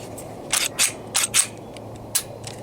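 Slide stop being popped back into a Kahr CW45 pistol: a handful of sharp metallic clicks and snaps close to the mic, spaced irregularly across a quiet background.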